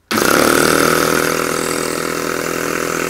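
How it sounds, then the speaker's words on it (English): Scratch-built rotary valve model engine running on compressed air from a compressor, starting abruptly and holding a loud, steady, fast buzzing drone throughout with no talk. "I've got the little rotary valve engine connected up to my compressor"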